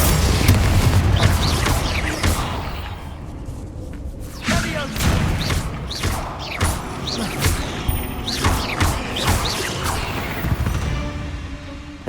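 Confringo fire spell in Hogwarts Legacy, cast inside a tomb, sets off a string of loud booming blasts and whooshing crashes, several sharp impacts in irregular succession over a rumbling bed.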